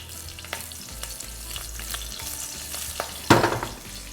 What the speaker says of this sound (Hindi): साथ ही इसमें छौंकेंगे हरी मिर्च स्लिट करके